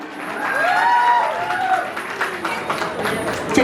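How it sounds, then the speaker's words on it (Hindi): Loud applause and cheering from a wedding crowd at a ring ceremony for a married couple of fifteen years, with whoops and voices rising over steady clapping. "मैं चाहूंगी हमारे प्यारे से जोड़ के एक और जोरदार ताली होनी चाहिए।"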